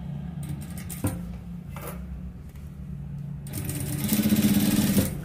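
Sewing machine stitching a seam along a lining, a close low mechanical hum with a clunk, swelling into a fast, loud rattling run of needle strokes near the end.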